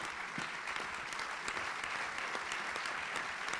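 Audience applause at an Argentine government event on small and medium businesses, dense steady clapping throughout, fairly distant and continuous without breaks.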